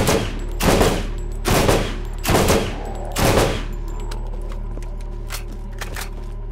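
Gunfire from a Dahl weapon in Borderlands, a burst of about five shots in a steady rhythm, close and loud, then fainter distant shots over a constant low hum.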